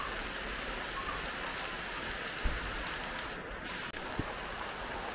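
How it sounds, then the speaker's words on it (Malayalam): Steady rain falls outdoors in a Kerala village, a dense continuous hiss of drops on surfaces with a couple of faint knocks, no voices. "ഇവിടെയൊക്കെ നേരത്തെ മഴ തുടങ്ങി."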